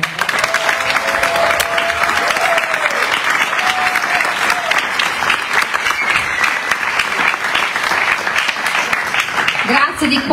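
Steady, loud audience applause fills a concert venue in Italy after a rock tribute performance, dense clapping with some cheering voices mixed in, continuing without a break.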